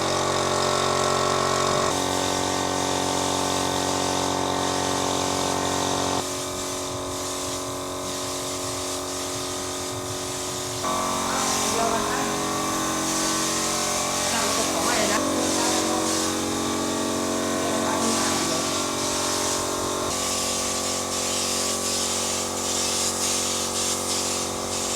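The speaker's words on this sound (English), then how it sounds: "they're painting it all using a spray gun" A spray gun paints a plasterboard vaulted ceiling indoors with a loud, steady hissing spray over a constant droning pump or engine, continuing throughout with shifts in tone and no speech.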